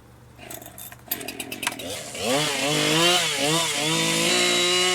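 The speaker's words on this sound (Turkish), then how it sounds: "Bu sefer testerem olduğu için ağacı ben kaldıracağım." Chainsaw cutting a fallen tree on an icy Alaskan road in Euro Truck Simulator 2: a few sputtering pulls and clicks, then the engine revs up into a loud, steady buzzing whine with rising and falling pitch.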